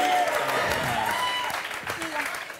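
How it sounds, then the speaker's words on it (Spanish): A studio audience at a television interview show claps, a moderate wash of applause that fades slightly as it goes, with a few voices mixed in underneath. "Un aplauso para ella, de verdad."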